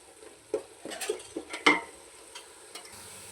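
Six green chillies frying in a pan with onion for country chicken biryani, a soft sizzle broken by quick clinking stirs and one sharper metallic scrape, close by with no voices.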